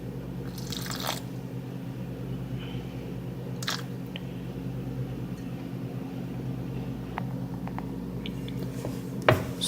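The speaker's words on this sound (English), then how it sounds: "So basically now I'm kneading." Hands knead whole wheat chia tortilla dough, giving soft, wet squishing and pressing sounds at a low level, with a few sharper taps, over a steady background hum.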